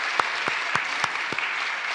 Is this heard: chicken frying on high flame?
no